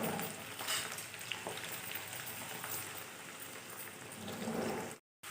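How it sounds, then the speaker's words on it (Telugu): Ivy gourd and coconut fry in a pan with a dense, crackling sizzle like rain on a surface, steady and close, cut by a brief gap of silence near the end. "బాగా ఎర్రగా కొంచెం ఫ్రై చేసుకోవాలి."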